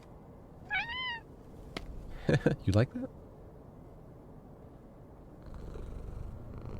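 A cat in a PSX-style horror video game gives a short meow followed by a quick series of chirpy mews, then a soft low rumble of purring; a voice speaks briefly.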